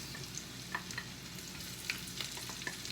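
Onions frying in a pan on the stove for a steamed Jamaican red snapper dish, a steady low sizzle with occasional light crackles and pops, close and fairly quiet, no talking.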